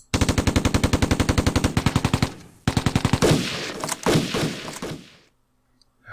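Machine gun fire in the video game Tigers on the Hunt, a loud, fast, even burst of rapid shots lasting a couple of seconds, followed by heavier booming impacts and rumbling that fade out.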